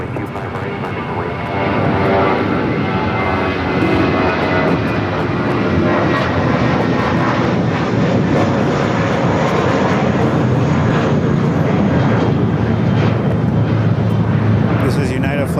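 An airliner takes off from runway 25 right at LAX with a loud, steady jet roar that fills the whole stretch at close range.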